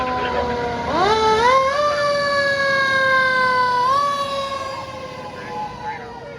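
Philadelphia fire engine siren rising into a loud, sustained wail that holds steady and then shifts pitch slightly before fading, with road and engine noise beneath it.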